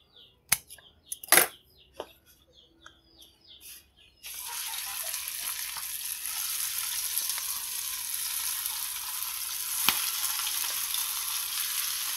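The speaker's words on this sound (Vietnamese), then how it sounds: "Mình đã chiên sơ rồi cho nên bây giờ mình chiên lại nó cũng nhanh, mình chỉ chiên thêm một bề nữa cho nó đủ vàng thôi." Pre-fried vegetarian eel pieces being refried in a pan for sour soup, with a steady broadband sizzle of hot oil starting abruptly after a few light clinks and taps and continuing loud and even to the end.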